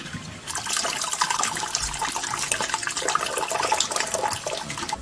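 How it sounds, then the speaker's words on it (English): Homebrew wort drains from a grain bag in an all-in-one brewing setup, a steady splashing, trickling pour of liquid that runs continuously and close for several seconds with no talk. "I'm going to strain it, and then I'll get a pre-boil gravity from this."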